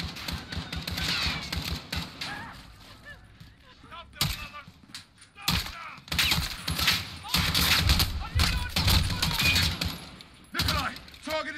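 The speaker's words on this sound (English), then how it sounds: "The gunshots, of course." Gunfire rattles through a Modern Warfare campaign firefight: loud bursts and rapid volleys arrive in irregular clusters with short gaps between them, mixed with thuds and game dialogue.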